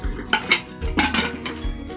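Lid of a pressure cooker being closed while cooking dal gosht, a few short metallic clanks and scrapes close by, with no talking.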